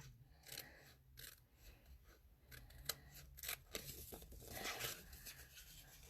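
Scissors snip through a paper envelope flap in a stamping craft session, making quiet, close crisp cuts and rustles in an irregular series of short snips.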